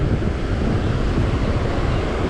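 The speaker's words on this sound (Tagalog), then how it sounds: "Malakas ang alon kaya hindi makapanabi masyado yung bangka." Strong sea waves on a shore where a fishing boat waits offshore, a dense, loud, continuous roar of surf mixed with heavy wind buffeting.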